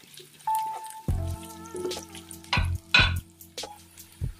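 Onion sizzling in a hot pan for chicken bukhari rice, with sharp hissing bursts as pieces are stirred and dropped in, plus clinks and scraping under a steady background tone, close and moderately loud.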